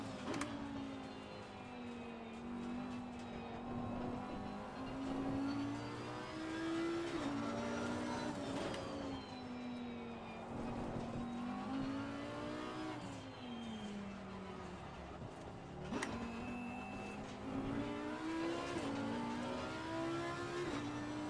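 An Audi race car in Assetto Corsa Competizione drives with its engine droning and rising and falling in pitch as it revs through the gears, steady and moderately quiet, with occasional sharp shift clicks.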